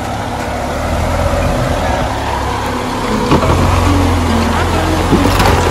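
A Mahindra Scorpio 4x2 strains up an off-road slope, its engine a loud, rough, steady drone with a low rumble, while people talk over it.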